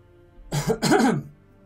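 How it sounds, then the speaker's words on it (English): A man with a sore throat gives a short throat-clearing cough in two close bursts, near and fairly loud against quiet background hum. "Got a sore throat today, that's why I keep coughing."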